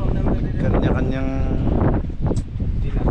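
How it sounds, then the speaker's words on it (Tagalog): Strong outdoor wind buffets the microphone in a steady, loud rumble that runs the whole time beneath people talking. "lakas ang hangin mga bisig"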